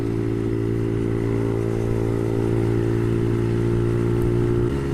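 A Brixton Felsberg 125 motorcycle on the road, its engine holding a steady, loud droning hum at cruising speed with wind and road rumble, close throughout and with no talking.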